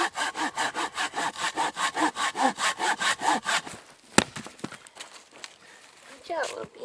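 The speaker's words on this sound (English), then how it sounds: "I'm trying to chop wood." Wood cut by hand with a saw, about fifteen rhythmic back-and-forth rasping strokes, close and loud, then stopping with a sharp knock and quieter rustling, a voice briefly heard near the end.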